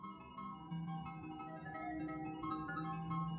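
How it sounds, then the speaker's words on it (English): An ice cream truck jingle plays in the middle of the night, a steady tinny melody with sustained tones, moderately loud and continuous with no voices. "The jingle of an ice cream truck."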